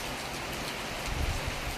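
Heavy rain falls in a stormy mango orchard as ripe mangoes drop. A constant, close hiss of drops covers everything, with a brief low thud near the end.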